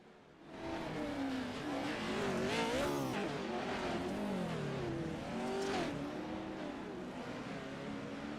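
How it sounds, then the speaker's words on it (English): Pro 4 stadium trucks race around a dirt track at Park River, engines roaring loudly and continuously with rising and falling revs as they pass, under a steady wall of motor noise. "Just listen to these trucks rip around the track."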